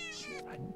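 Cat meowing in the video game Minecraft, a single short rising-then-falling meow heard quietly and close.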